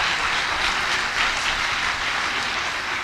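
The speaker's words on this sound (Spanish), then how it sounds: "Dele otro aplauso de honra a nuestro Dios" A church congregation applauds in honour of God, with a continuous wash of many hands clapping at moderate volume and no voices on top.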